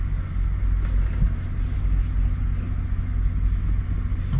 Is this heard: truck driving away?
yes